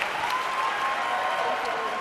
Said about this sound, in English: Give our panelists a big round of applause.